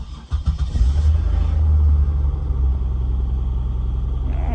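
A Buick Park Avenue with a 3800 Series II engine cold starts at 24 degrees, cranking briefly before catching and settling into a loud, slightly rough steady idle close by.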